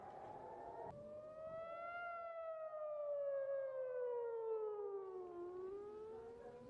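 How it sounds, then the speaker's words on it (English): Air raid sirens sound across multiple areas during a missile interception, one long wailing tone that rises, holds steady and slowly falls, with a faint second siren underneath, steady and fairly distant. "air raid sirens sounded in multiple areas"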